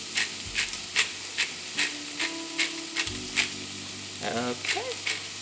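Onions with cracked pepper sizzle in bacon grease in a pan, a steady close hiss running throughout, broken by repeated soft clatters as the onions are moved, with a few brief vocal sounds near the end.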